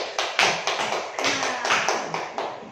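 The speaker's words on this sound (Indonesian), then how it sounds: "Tepuk tangan dulu." A classroom group claps hands during a micro-teaching lesson, about eight distinct, fairly loud claps spaced roughly evenly in a slightly uneven rhythm, close to the listener with no voices.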